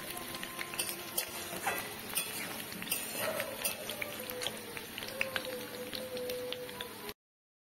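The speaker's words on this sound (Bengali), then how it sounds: "এখানে পেঁপে আলু দিয়ে আমি ভাজবো" Chunks of papaya and potato fry in a pan, a soft steady sizzle with scraping and stirring clatter throughout, fairly quiet and close.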